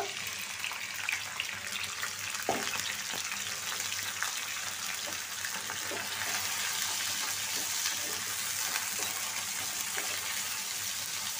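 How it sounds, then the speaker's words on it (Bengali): Chopped onion and garlic frying in hot oil, a steady loud hiss and sizzle with crackly pops throughout, continuous and close without pauses. "তেলটা গরম হয়ে গেছে, আমি রসুন পেঁয়াজটা তেলে দিয়ে দিব।"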